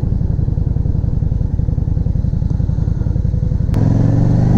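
A Yamaha V Star 650 motorcycle engine idling loud and close with a steady rapid thump, then a sharp click as the clutch engages and the tone shifts to a smoother, heavier drone.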